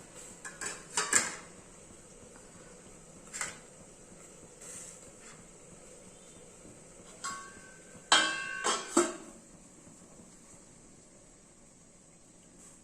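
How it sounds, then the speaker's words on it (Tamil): A plate is set down inside a steamer pot while making Kerala steamed rice cake, giving a few light metallic clinks and clatters in short bursts, with a longer rattle near the end, fairly close and otherwise quiet. "இதுக்கு ஃபர்ஸ்ட் இதுக்கு ஒரு தட்டு வச்சுப்போம்."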